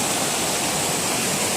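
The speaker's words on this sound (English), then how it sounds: "Just a beautiful stream." A mountain stream on the Appalachian Trail flows in a steady, close rush of broadband water noise with no break and no voices over it.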